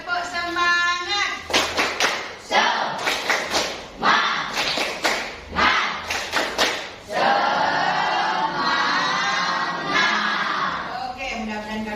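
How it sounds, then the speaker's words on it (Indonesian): A classroom of children repeats a teacher-led spirit clap, crisp rhythmic claps in grouped bursts, then a swell of loud chattering and shouting voices. "Sekali lagi, tepuk semangat."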